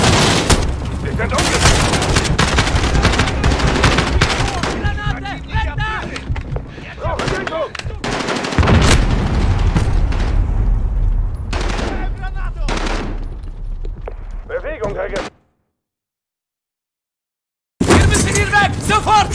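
Heavy gunfire in Call of Duty Modern Warfare (2019), sustained automatic bursts and booming shots under shouted voices, breaking off into sudden silence before the firing resumes.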